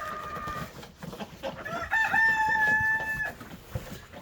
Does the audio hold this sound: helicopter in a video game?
no